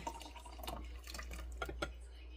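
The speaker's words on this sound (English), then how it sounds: "Let me pour it in here for you. And I like it just in a mug." A drink is poured into a mug, giving a soft, uneven trickle and splash with a few brief drip-like bursts, faint and close, over a low steady hum.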